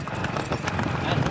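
A ridden mare's hooves clip-clopping in a quick, close rhythm over a brief stretch, with voices talking over the hoofbeats.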